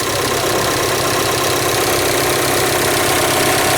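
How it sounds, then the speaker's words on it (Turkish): Volkswagen Amarok engine idling with a ticking noise, a loud, steady, close-up drone with fine rapid ticking running evenly through it and no talk. "Motor biraz sesli. Bunların genelinde zaten var bu ses. Şakırdıyor."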